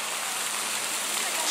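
Fountain splashing beside a river at a park in Polanica-Zdrój, a steady, even rush of falling water heard close and continuous with no break.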